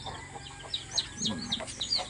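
Several chickens clucking close by in quick, irregular bursts, with a low background murmur.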